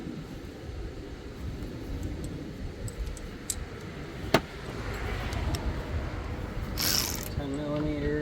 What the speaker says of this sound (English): I think I'm just going to unbolt this part